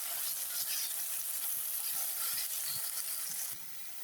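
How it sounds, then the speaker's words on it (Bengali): Onion and garlic frying in soybean oil as they are stirred in a pan, a steady close sizzle and hiss with soft scraping stir sounds, no voices. "তেল দিয়েছি, সয়াবিন তেল, পেঁয়াজ আর রসুন দিয়েছি, দিয়ে নাড়াচাড়া করা হচ্ছে।"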